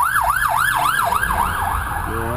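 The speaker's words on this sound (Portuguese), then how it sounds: "a galera abrindo caminho pra ambulância ali, passou voada" An ambulance siren rushes past at speed, its loud wail sweeping rapidly up and down in a repeating cycle close by, with traffic rumble beneath.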